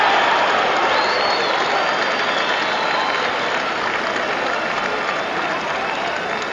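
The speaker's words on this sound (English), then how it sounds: "The crowd are enjoying the tries by Manu Samoa," A large stadium crowd at a 1995 Rugby World Cup match between Samoa and Italy cheers loudly and continuously, forming a dense roar that fades slightly toward the end.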